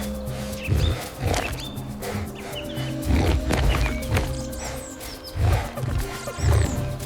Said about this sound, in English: The bear roars, a sound that shakes the frost from the trees.